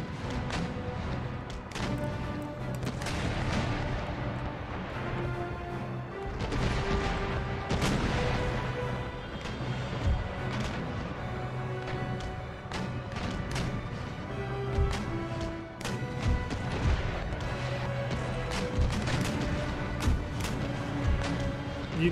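Naval cannon fire from ships in Empire Total War, with repeated booms and cracks scattered irregularly over a steady battle din and music, some shots near and others distant.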